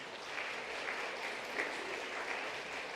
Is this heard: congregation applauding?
yes